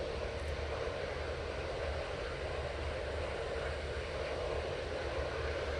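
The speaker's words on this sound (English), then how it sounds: "Got quite a few aircraft coming over" An aircraft flies over Manchester Airport, a steady broad roar of jet engine noise held at a constant level without any talk.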